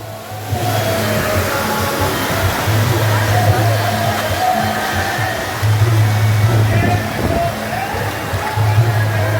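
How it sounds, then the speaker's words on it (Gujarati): Loud, steady rushing river water roars throughout, a broad continuous wash of sound close by at a village fair, with faint voices buried beneath it. "તો આટલું બધું પાણી જાય છે"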